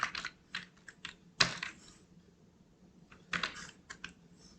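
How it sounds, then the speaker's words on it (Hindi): Keys on a computer keyboard are tapped in quick clustered bursts with short pauses, including one sharp louder keystroke, while a program filename is typed up close. "अब हम क्या करेंगे, प्रोग्राम का नाम टाइप करेंगे"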